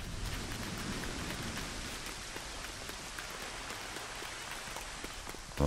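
Rain in the Lego Fortnite game falls as a steady, even hiss of droplets throughout, fairly soft and continuous with no talk.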